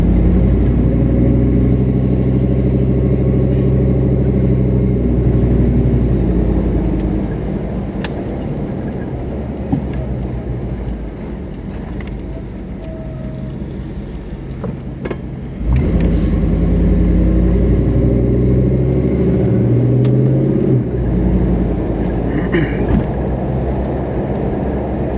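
A car rolls through a quiet neighborhood on a rough road, its engine and tire rumble loud and close, dipping in the middle then surging again, with rattles and bumps over the uneven surface.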